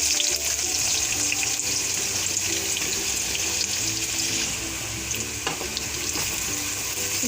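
Onions frying in hot mustard oil for a lauki chana dal, a loud steady sizzle with crackling bursts throughout, close and continuous with no talking.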